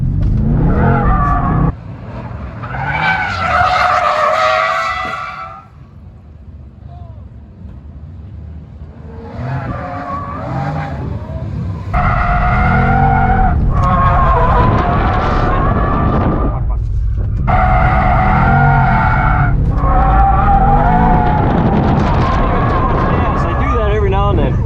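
A drift car sliding with tires squealing in long, loud harmonic screeches, broken by gaps of engine rumble and revving; people talk over it in places.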